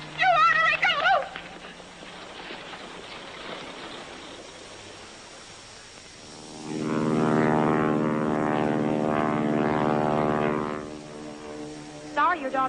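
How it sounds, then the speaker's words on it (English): A propeller airplane departs, its droning engine swelling loud midway and holding a steady harmonic hum before fading, with brief voices and music at the edges. "Sorry your daughter missed the plane, Mr. Barabee."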